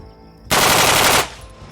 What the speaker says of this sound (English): We're going to go ahead and give you 5 rounds, and you're going to see how well the recoil is controlled.